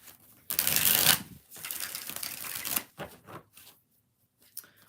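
A deck of tarot cards is shuffled by hand in several quick, crisp riffling bursts. Each burst is close and clear, with short pauses and quieter handling noises in between.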